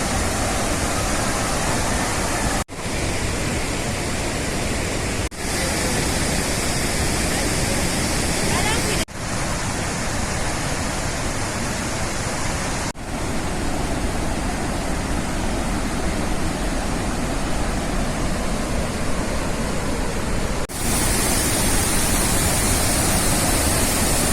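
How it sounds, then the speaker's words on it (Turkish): Roar of Iguazu Falls heard up close, a loud, continuous broadband rush of falling water that fills the whole clip with only brief dips. "Gitgide daha da yakınlaşıyorum şelalelere. O yüzden çok fazla gürültü olacak bundan sonraki videolarda."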